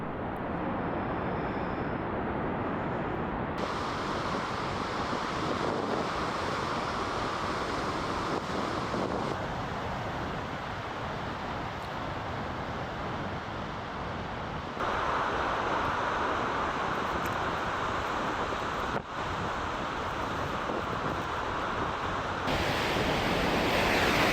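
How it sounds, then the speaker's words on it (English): Raging winter ocean surf pounds the expansive coastline below the Cape Perpetua overlook. It comes as a continuous loud roar of crashing waves mixed with heavy wind rumble on the microphone, with no voices. "wonderful views of the expansive coastline and raging ocean below"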